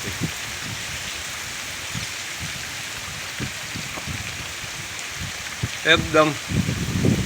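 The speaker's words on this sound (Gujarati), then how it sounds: "જબરજસ્ત વરસાદ ચાલુ છે" Heavy rain falls on farm fields, a steady loud hiss throughout, with someone talking over it and a brief voice rising near the end.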